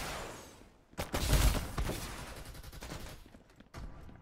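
Bursts of gunfire from Farlight 84, a battle royale shooter game, with a sudden volley breaking in after a quiet start and then a rattle of rapid shots tailing off, fairly close and loud.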